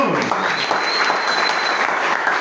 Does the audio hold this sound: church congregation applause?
yes